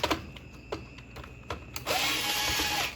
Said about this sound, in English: So nice that I have this electric screwdriver.